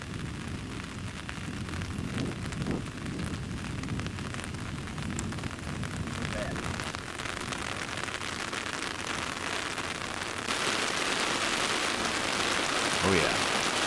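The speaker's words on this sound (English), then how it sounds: "And here comes the rain again." Rain falls during an outdoor disc golf round, a continuous broadband hiss that grows heavier and louder toward the end, with commentators talking over it.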